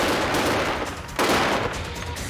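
Machine-gun and rifle fire crackles in dense, sustained bursts during a military training exercise in a village, loud and near, with a sharp renewed volley partway through.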